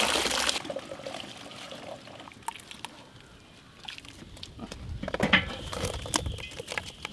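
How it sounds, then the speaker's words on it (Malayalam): Water splashes and trickles in uneven bursts as it is poured over a large batch of potatoes, close by, with clattering and handling noises around it. "നല്ല വെള്ളം ഒഴിച്ച് വെക്കും കേട്ടോ"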